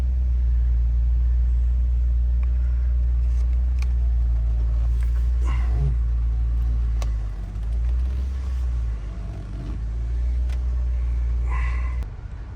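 A Land Rover that had sat dead for five months idles with a loud, steady low rumble, then eases forward at a driveway's end, its engine note dipping slightly before continuing.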